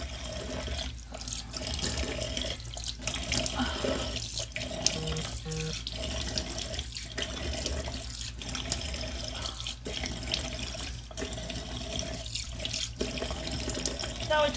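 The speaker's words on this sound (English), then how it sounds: "It always takes me a second to wash that mask off because you want to make sure all of that grit comes off" A tap runs steadily into a sink while a face mask is washed off, a constant close splashing rush with brief interruptions as hands move through the stream.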